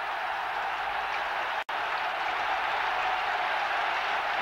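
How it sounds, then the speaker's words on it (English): Steady, dense applause from a large cricket stadium crowd in India at the 1993 Hero Cup, sustained and loud throughout with one brief dropout. "a clapping breaks out around the stadium"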